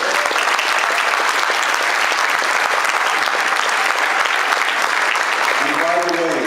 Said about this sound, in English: a little preemptive round of applause for the astonishing work